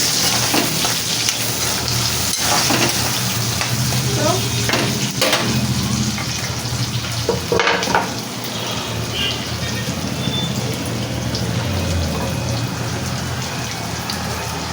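Mustard seeds, urad dal, ginger, garlic, green chilli and onion fry in hot oil for mint chutney, a steady close sizzle and crackle running throughout with occasional stirring knocks and faint background voices.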